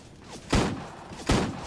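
Gunfire in a Fortnite-style mobile battle royale game: two sharp, loud shots spaced under a second apart over a low background hum, with no speech.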